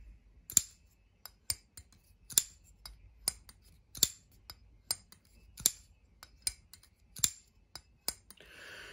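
A Ferum Forge Mordax button lock knife's blade drops open again and again, each time with a crisp metallic tink and small bounce, about one click per second in an otherwise quiet room.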